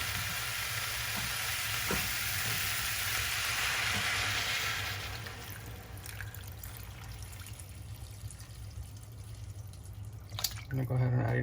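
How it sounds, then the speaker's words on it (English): Water poured into a pot of lentils for a lentil stew, a steady broad splashing pour for about five seconds that then trails off into softer trickles and faint kitchen noise. "And now we're gonna go ahead and add our water."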